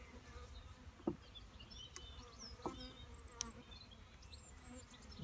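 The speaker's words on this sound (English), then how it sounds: "Lots of bees in here." Honeybees buzzing inside an open hive during a beekeeping inspection, a dense continuous hum close by with individual bees zipping past, and a few brief knocks and clicks.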